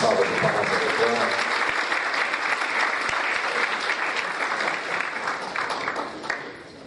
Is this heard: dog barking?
no